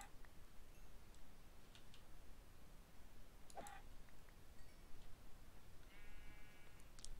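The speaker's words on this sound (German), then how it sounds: "Außer dass das Schaf braun ist, ist auch nichts Besonderes." A brown sheep in Minecraft gives one short bleat near the end, set against scattered soft clicks and ticks in a quiet background.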